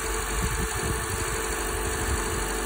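Car engine idling steadily up close, a continuous even rumble with light vibration, nothing else heard over it.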